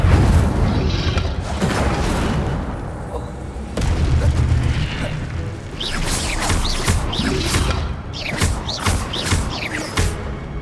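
An Incendio fire spell cast in Hogwarts Legacy, loud whooshing roars and crashing bursts in a dense, continuous barrage, with sharp crackling accents later on.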